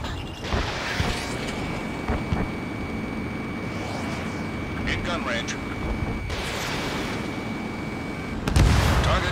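Missiles striking and exploding in the video game Ace Combat 7 during a jet dogfight, with roaring engine noise, several sharp blasts and a heavy boom at the end, under radio chatter.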